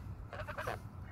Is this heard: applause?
no